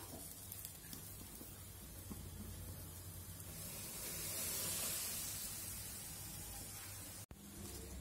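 Hot melted dalda poured onto flour for samosa dough gives a steady close hiss that swells midway, then cuts off abruptly near the end.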